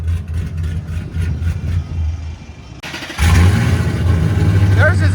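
A Procharged supercharged V8 Ford Mustang GT with headers and straight pipes idles low, then surges into a loud, throaty rev with a deep rumble and crackle, close by.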